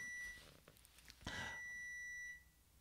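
A bread maker's steady electronic beep tone sounds when the bread is done, stops, then returns in a longer high-pitched stretch, faint and thin, with small household noises around it.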